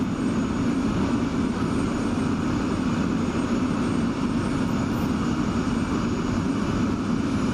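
F-16 jet engine spooling up during start in a flight simulator game, a steady dense roar and whine held at constant loudness throughout, with no voices.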